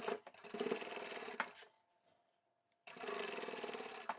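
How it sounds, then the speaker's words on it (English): Sewing machine stitching the long edges of a tapered toiletry bag, running in steady bursts with a brief quiet pause midway before resuming, close and loud with no talk. "we just need to sew in the round until the entire piece has been stitched on both long edges"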